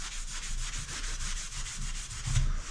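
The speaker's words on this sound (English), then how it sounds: "I'm going to take a pretty fresh gray Scotch-Brite pad." Gray Scotch-Brite pad rubbing back and forth along the stripped fork tube of a 1983 Yamaha IT 175, a steady rhythmic scrubbing hiss heard close up with no talking.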